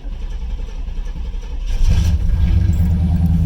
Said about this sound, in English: We're going to start it. We're not going to touch foot feed.